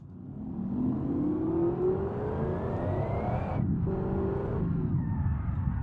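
A 1940s GT car engine accelerates steadily in the BeamNG video game, pitch climbing through the gears with a brief shift drop, loud and continuous.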